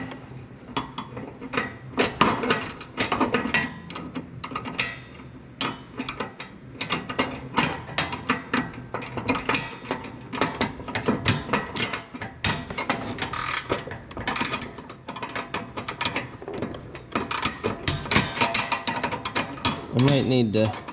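A wrench ratchets steadily while tightening a loose nut on a Cub Cadet XT1 mower deck, rapid clicking strokes coming in bursts, close and loud, with some metallic clatter mixed in.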